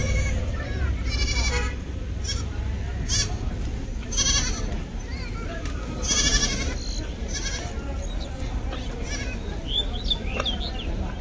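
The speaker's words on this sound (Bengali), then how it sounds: "আর এই ছাগলগুলো আছে।" Goats bleating now and then amid the crowded din of an open-air livestock market near Ashulia, Dhaka, with busy voices and bargaining filling the background throughout.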